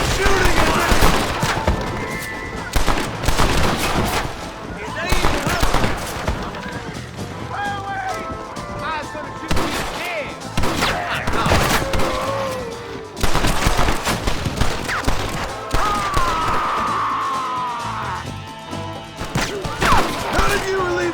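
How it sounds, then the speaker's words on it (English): Repeated gunfire bursts in Red Dead Redemption, rapid volleys of cracking shots mixed with smashing impacts, while shouting voices and character dialogue overlap throughout a frantic shootout. "Stop shooting at me!"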